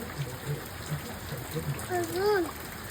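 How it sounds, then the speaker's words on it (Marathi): Rain falls outdoors in a soft, steady patter with faint drips, quiet and diffuse beneath brief voices and a short rising vocal sound near the end. "पाऊस कधीपासून पडतो. रात्रीपासून पडतोय ना म्हणून."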